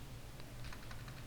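Quick, light clicks of typing on a computer keyboard while writing CSS code, a short burst of soft keystrokes over a faint steady hum, no voices.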